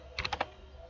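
A few quick keystrokes tap on a computer keyboard, a short close burst of four or five clicks that stops quickly, heard alone against quiet room noise.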